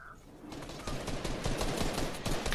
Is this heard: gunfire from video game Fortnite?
yes